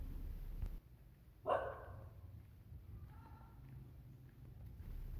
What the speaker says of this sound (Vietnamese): Sau đây nhiều chó, thấy 4-5 chú chó trong đây nè